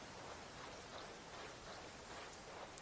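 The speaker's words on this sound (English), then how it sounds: "This heavy rain must be quite an inconvenience for you." Steady, dense hiss of heavy rain falling in the video game Genshin Impact, an even wash of noise with faint scattered drip accents and no voices.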